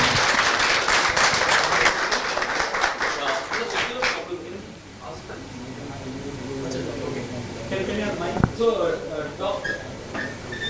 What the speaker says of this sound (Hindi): तो सबसे बड़ा ताली बनता है इनके लिए या नहीं?